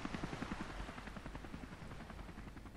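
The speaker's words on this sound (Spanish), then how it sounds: "la 12 ya es cuando viene el helicóptero" A helicopter arrives in the video game Buzz Aldrin's Space Program Manager, its rotor thudding in a rapid, even pulse over a broad whooshing roar that holds steady and moderately loud, with no voices.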